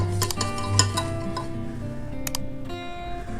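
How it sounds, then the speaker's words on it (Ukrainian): A hand whisk beats cake batter in a bowl without a mixer, giving quick metallic clinks and scrapes in bursts, close and clear with no talk. "Змішуємо без міксера, просто вінчиком."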